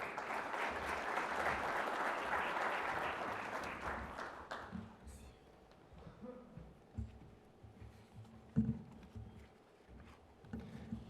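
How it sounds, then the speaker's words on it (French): Audience applause fills a hall at the Tangier Logistics Days conference, dense clapping for about five seconds that then dies away to scattered footsteps and room sounds. "Sous vos applaudissements, bien entendu."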